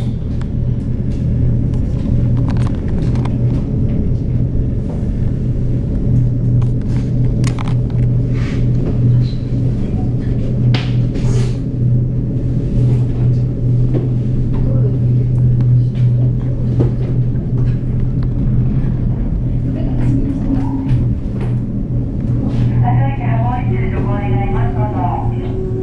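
Mount Aso aerial ropeway cabin creeping along at reduced speed, a steady low mechanical rumble and hum running throughout, with a person talking over it.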